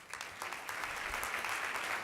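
An audience at a school board meeting claps for a staff member and team, a steady close patter of many hands filling the whole stretch with no talk over it.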